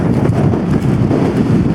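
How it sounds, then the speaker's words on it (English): Strong wind buffets the microphone in a constant, loud, rumbling roar with no voices. "It's really windy."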